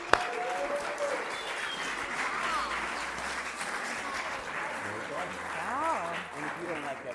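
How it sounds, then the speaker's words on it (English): Steady audience applause and cheering for a storyteller at an anniversary storytelling show, continuous clapping from a crowd, with voices and whoops mixed in throughout. "Everybody, big hand applause for Mimi."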